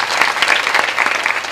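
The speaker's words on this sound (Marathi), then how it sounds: "त्याच्यासाठी सुद्धा सर्वांना एकदा टाळी वाजवा" A crowd gathered for a devotional kirtan program claps in thanks for the sound system operator, giving dense, loud, continuous applause with no voices over it.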